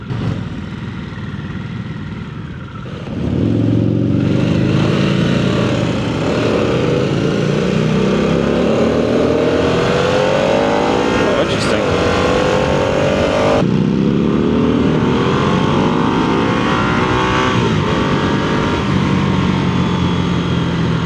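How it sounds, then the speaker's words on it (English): Harley-Davidson Nightster V-twin motorcycle engine idling, then revved hard into a loud, sustained roar with rising and falling pitch, heard up close with no talking. "It actually likes to have a handful of throttle this to get it going."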